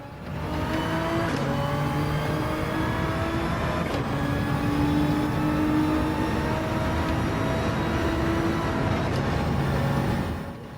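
Race car engine in Gran Turismo on the Grand Valley circuit, revving hard through gear changes, rising whines repeatedly climbing and dropping, close and continuous with no talk.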